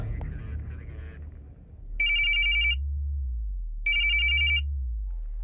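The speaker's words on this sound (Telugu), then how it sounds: "సార్ రింగ్ అవుతుంది" A telephone rings in two bright electronic bursts separated by a pause, over a low steady hum, in a movie scene.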